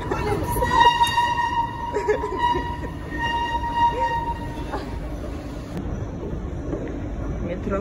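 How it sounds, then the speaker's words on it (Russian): A Paris metro train rumbles underground, with a sustained tonal whine and squeal from the rails fading after a few seconds into a lower steady roar, while people talk nearby. "Метро в Париже."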